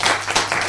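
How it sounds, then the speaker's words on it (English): A studio audience claps for a guest at a Mumbai talk show, a dense, steady burst of applause from many hands. "please give her a round of applause"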